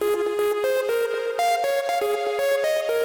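Bright synth lead built in Phase Plant, pitched up about three octaves with glide off, playing a quick stepping melodic pattern of clipped notes with delay and reverb tails filling the gaps, steady and loud throughout.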